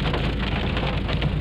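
Heavy rain pours onto a car during a downpour, a dense, loud, continuous patter of drops drumming on the body and glass with no voices.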